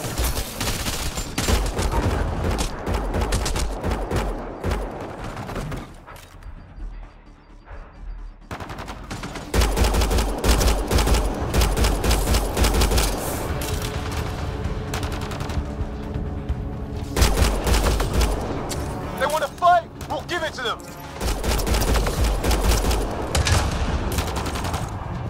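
Heavy video game gunfire from Mass Effect Andromeda, sustained automatic bursts and booming shots filling the scene, broken by a brief lull before the firing resumes loud and close.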